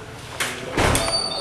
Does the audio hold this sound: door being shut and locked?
yes